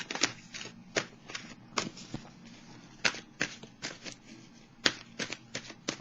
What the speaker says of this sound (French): Maintenant, je vais vous piger une carte de l'oracle de l'âme intuitive.